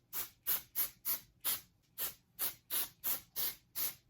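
Short hiss bursts of hair spray aimed underneath a section of hair at the roots, about eleven quick pumps in an uneven rhythm, close and crisp with brief pauses between them.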